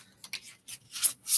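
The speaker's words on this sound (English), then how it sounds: "Just going to finish shuffling this deck" A deck of tarot cards being shuffled by hand, several quick rubbing and riffling bursts close up, with brief pauses between.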